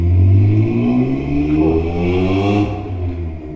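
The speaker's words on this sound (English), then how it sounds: "Normally I'd edit out any loud cars, but fair play to that one." A loud car engine revs hard with rising harmonic pitch as it passes close on a street in Napier, New Zealand, the roar swelling and then easing off without any talk.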